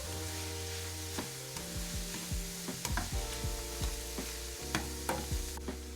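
Hot Italian sausage and vegetables seasoned with Italian seasoning, crushed red pepper, garlic powder, onion powder and salt, stirred in a pan: a series of close scraping and clacking utensil strokes over a steady sizzle.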